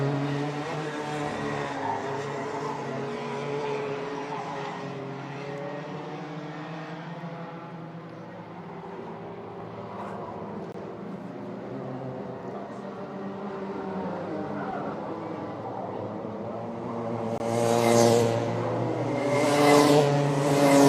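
Bambino-class go-karts racing a heat at the Namibia National Karting Championship, a continuous layered engine drone with shifting pitch, louder near the end as karts pass close.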